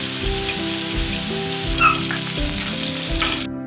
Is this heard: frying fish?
yes